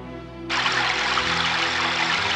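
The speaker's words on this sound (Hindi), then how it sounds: "और दूर हटाने के बाद में सीता झरने का पानी लाती है" Waterfall water is poured in a steady, loud rush that starts abruptly and carries on without a break, close and with no voices.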